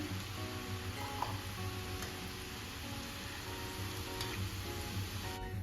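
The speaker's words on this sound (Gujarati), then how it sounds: "આ રીતે આપણે થોડું થોડું એડ કરીને ફ્રાય કરી લઈશું" Grated sweet potato fries in hot oil as a steady, continuous sizzle with faint crackles and ticks, close and even throughout, with no voices.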